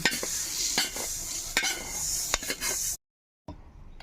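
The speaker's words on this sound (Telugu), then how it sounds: "యాభై గ్రాముల ఆవాలు కూడా వేయించుకుందాం" Mustard seeds, about fifty grams, dry-frying in a pan with close scraping stirs and a light crackling sizzle, cut by a half-second gap before fainter stirring resumes; no voices.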